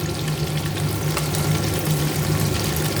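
Shrimp stir-frying in a hot pan for chili-salt prawns, a steady close sizzle with a low hum underneath and faint scraping stirs, no voices.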